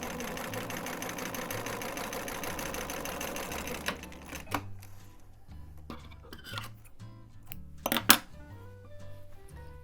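A sewing machine zigzag stitching knit fabric with nylon thread runs steadily up close for about four seconds, then stops, leaving scattered clicks and light handling knocks.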